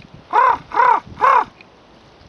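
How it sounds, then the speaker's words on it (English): A crow caws three times in an even rhythm, each call loud and harsh, from a tree nearby in an outdoor setting by the sea. "it's a crow saying good morning, Jerry"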